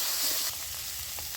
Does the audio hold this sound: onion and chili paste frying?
yes